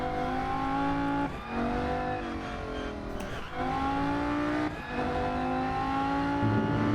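A race car engine drones and revs continuously in the Rennsport racing game, the pitch rising through each gear then dropping sharply at shifts, loud and close with no talking.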